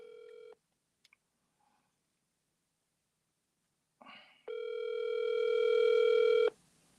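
Outgoing phone call ringing back: a short tone burst, a pause, then a longer steady ringback tone, clear and close with no talk over it.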